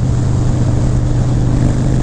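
A Harley-Davidson Breakout motorcycle accelerates hard on an interstate highway, its loud low engine roar blended with heavy wind rush, steady and close.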